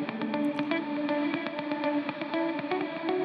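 Valhalla Supermassive reverse eighth-note delay preset in Andromeda mode, rhythmic plucked notes repeating in rapid even pulses over a sustained, washy reverberant tail, steady and moderately loud with no voice.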